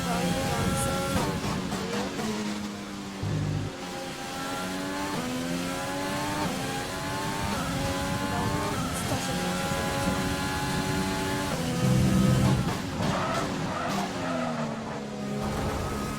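A Formula 1 car in the F1 2020 racing game roars loudly throughout, its high engine note climbing and dropping through gear changes, with tyre squeals as it brakes and corners.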